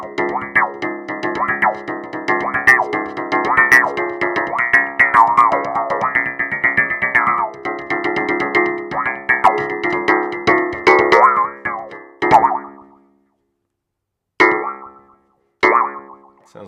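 An aFrame electrorganic frame drum, struck and rubbed all over its sensitive frame, gives off a busy run of springy, cartoon-like boing tones that wobble in pitch, then breaks into a few isolated hits separated by silence.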